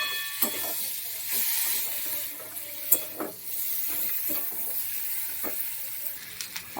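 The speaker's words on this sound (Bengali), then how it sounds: "এর মধ্যে এই যে পেঁয়াজ আর টমেটোটা দিয়ে দিলাম।" Chopped onion and tomato fry in a pan with a steady, moderate sizzle and hiss. Scattered spatula taps and scrapes sound close by, with no talking.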